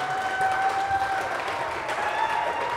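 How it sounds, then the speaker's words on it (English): A high school basketball crowd applauds two seniors being substituted off the floor, giving a dense, sustained wash of clapping and cheering in a gym, with faint voices mixed in. "it is the 2 seniors coming off as they get a round of applause"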